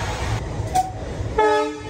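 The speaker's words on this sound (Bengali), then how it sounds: "এই যে ইঞ্জিন ছেড়ে চলে গেল," A train engine at Benapole station in Bangladesh, with rail rumble and a brief mid-pitched horn-like tone, then a sustained tonal blast near the end, fairly close and moderately loud.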